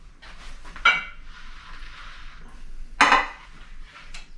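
Shirataki noodles dropped into a pan while making low-carb keto shrimp scampi give two sharp clattering splashes with a brief rustle between them, close and moderately loud, with no talking.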